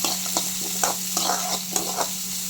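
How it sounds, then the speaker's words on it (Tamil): Mustard seeds and chopped onion fry in hot oil, a steady close sizzle with regular stirring scrapes and small pops repeating every half second or so, with no voices over them. "எண்ணெய் காஞ்சதும் ஒரு அரை ஸ்பூன் கடுகு போட்டுக்கலாம் கடுகு பொரியட்டும்"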